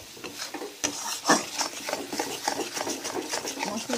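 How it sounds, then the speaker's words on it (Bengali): Spiced masala for mutton keema is stir-fried in a pan, heard as rhythmic scraping and rubbing of a spatula against the pan with a faint sizzle underneath, one sharper knock near the start. "আপনারা এই স্টেজে মশলাটাকে খুব ভালো করে কষাতে থাকবেন।"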